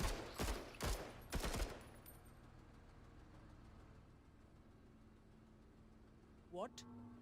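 Gunfire in a video game: a few loud bursts of shots close together at the start, then a low hum of game ambience, with a brief electronic sound near the end and no clear talk.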